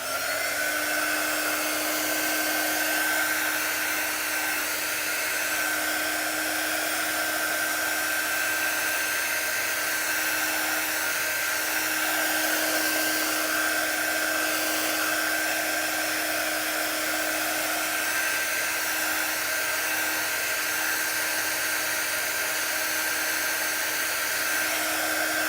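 Hair dryer blowing steadily to dry chalk paste on a small reindeer craft, a continuous close whirring hum with a high whine running unbroken throughout, no talking.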